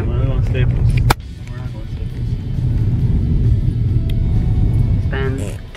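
Car interior road noise with a steady low engine rumble while driving around, continuous and close, with people talking over it throughout.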